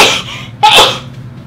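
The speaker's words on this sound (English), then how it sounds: "Wow, that was like a double sneeze." A man's sharp, loud double sneeze up close, two bursts in quick succession, the second stronger, then a short trailing breath.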